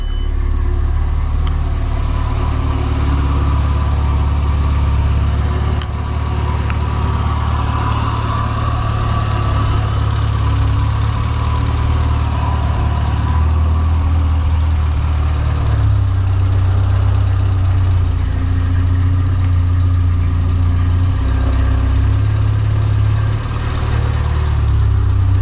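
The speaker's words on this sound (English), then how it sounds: "when you turn the key, it ain't the happiest, but it's running" The engine of Project D20, a Nissan D20, idles unevenly just after its first start, with a loud, steady low rumble and a slightly lumpy beat that runs without a break and with no talking.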